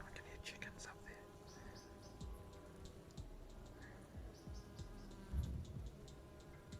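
A small honey bee swarm buzzes faintly and steadily in a quiet outdoor setting in New Zealand, with scattered soft ticks and brief low sounds nearby.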